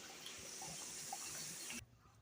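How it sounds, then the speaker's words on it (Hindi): Water running and splashing steadily into a cooking pot in a home kitchen while making chicken biryani, a continuous close pour that stops abruptly near the end. "जी तो हमने लिए एक पतीला, उसमें पानी डालिए।"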